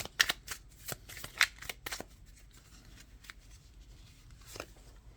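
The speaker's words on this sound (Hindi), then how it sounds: "मैं एक कार्ड और निकालूंगी" Tarot cards being drawn and shuffled by hand, a few sharp riffling snaps and slides up close early on, then softer sparse card handling, no talking.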